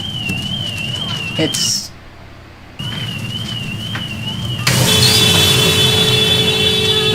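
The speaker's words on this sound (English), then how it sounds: "there goes the alarm" An alarm goes off in a wavering warbling tone, loud and near, cutting out briefly and then returning as a steadier multi-tone blare, with a voice speaking beneath it.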